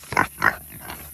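Pigs grunting in a back paddock fenced with electric fencing, two close, fairly loud grunts in quick succession followed by softer, fainter snorts.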